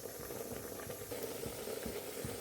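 Greens simmer in an open pot for keerai kadaisal, a faint steady bubbling and hissing with soft occasional pops, heard alone up close.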